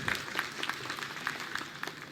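Audience applause at a public development rally and beneficiary conference in Ajaigarh, Panna district: a crowd claps steadily for about two seconds, moderately distant, with sharp individual claps standing out and no talk.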